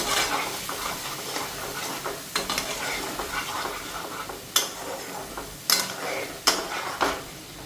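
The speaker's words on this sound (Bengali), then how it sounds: "আর এদিকে হলুদ আর লঙ্কার গুঁড়া দেবো ফ্রাই করে নিই" Turmeric and chili powder fry in a pan with a soft, continuous sizzle, while a utensil stirs and scrapes and sharp metallic clinks strike the pan now and then, close up with no talking.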